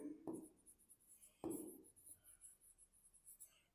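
Two faint, brief scrapes of writing on a board during an accounting lesson, spaced about a second apart, with quiet room noise between them.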